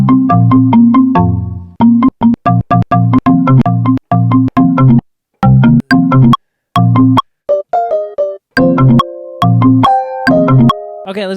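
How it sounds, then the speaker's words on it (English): The iPhone default ringtone plays loud and close as a bright, plucked marimba-like melody in quick repeated notes, broken by short gaps and later shifting to higher sustained tones. "your phone, the iPhone ringtone is 141 BPM"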